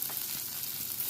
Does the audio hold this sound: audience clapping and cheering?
no